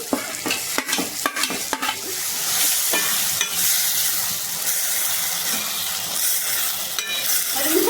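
Cucumber and tomato pieces cooking with salt in a hot pan give a steady, close sizzle and hiss, with a few stirring clatters early on and no talk.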